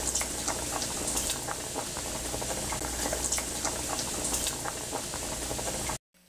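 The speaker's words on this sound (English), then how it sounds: "Get a mug of boiling starchy pasta water." Steady bubbling roil of a pot of pasta water at a rolling boil, close and continuous, with faint clinks before it cuts off near the end.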